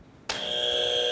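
A quiz buzzer sounds once, a sharp electronic tone that starts abruptly and holds steady at full loudness.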